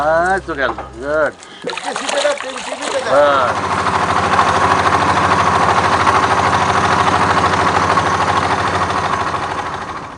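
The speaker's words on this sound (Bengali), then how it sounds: "এখান থেকে ইঞ্জিন নৌকায় রওনা হব বৈঠাকাটা ভাসমান বাজারে" An engine boat's motor starting up on a canal, first under a few seconds of talking, then settling into a loud, steady droning chug that runs close and continuous to the end.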